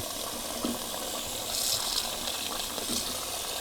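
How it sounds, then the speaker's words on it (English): Water from a tap pours steadily into a cooking pot of vegetables for chicken soup, a continuous gushing and splashing with a slight rise in the middle, close by and with no one speaking. "we're going to put enough water in here to cover up everything"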